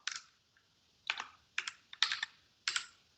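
Computer keyboard typing in short bursts of quick keystrokes separated by brief pauses, close and clear against a quiet background.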